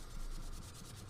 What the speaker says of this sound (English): So a little bit of sanding